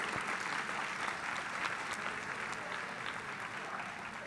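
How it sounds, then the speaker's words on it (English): A seated audience at a panel session applauds steadily, a soft but continuous wash of clapping with a few sharper individual claps standing out. "A very loud clap for my panelists and their subject."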